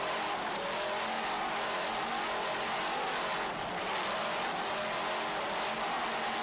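Two 700-horsepower racing boat engines throttling during a 1995 skater boat race, a loud, continuous roaring drone that holds steady throughout with no talking.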